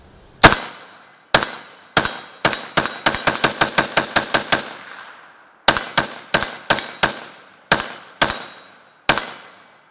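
Galil ACE rifle in .308 fitted with a muzzle brake firing a string of loud, sharp shots: a single report, then a rapid run of about a dozen closely spaced shots, followed by several slower, evenly spaced single shots, with no talking.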